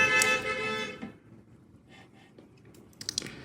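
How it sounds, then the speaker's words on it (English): A car horn honks outside during an indoor beading session, a loud harmonic blast in the first second that cuts off, followed by quieter rustling and clicking handling noises. "People gotta honk the horn and everything while I'm filming."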